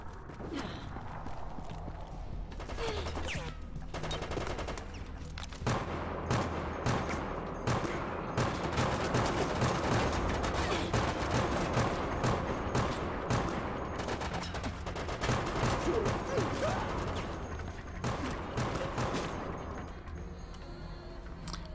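Sustained gunfire from Resident Evil: Operation Raccoon City, with dense rapid bursts and automatic weapon fire running almost continuously at high loudness, mixed with game effects and footsteps, no talk.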